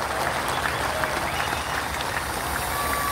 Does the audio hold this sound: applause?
yes